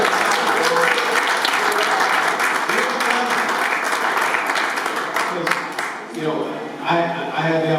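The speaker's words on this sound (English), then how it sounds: "you give him a round of applause" Audience applause at a community gathering for the Community Warehouse and Partners in Hope, steady dense clapping from a crowd throughout, thinning briefly near the end before picking up again.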